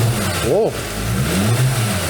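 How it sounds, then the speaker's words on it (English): A Mercedes C350 engine with a bad pulley revs once, close up, its pitch sweeping sharply up and back down in under half a second over a steady idle, while a man briefly exclaims. "Give it a couple revs."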